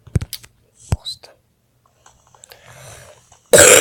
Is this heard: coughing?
yes